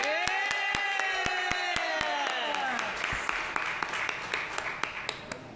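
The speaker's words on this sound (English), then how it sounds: "Y'all clap for my college." An audience at a city State of the City address claps steadily, with loud musical tones ringing in the foreground and sharp regular hits over the applause.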